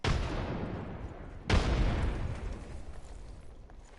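Frag grenade explosions in the video game Apex Legends, with a blast at the start and a louder boom at about the midpoint that trails off into a long decaying rumble, with no speech.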